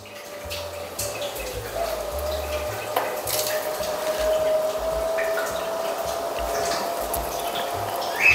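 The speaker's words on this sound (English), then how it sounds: "Now we turn our taps on." Water runs from taps into fish room tanks as part of a water change system, a steady hissing gush with a faint tonal whine, continuous and fairly close.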